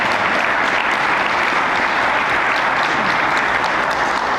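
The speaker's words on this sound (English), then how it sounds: "So let's give them a round of applause." A crowd applauds steadily, dense clapping filling the room without pause from start to finish.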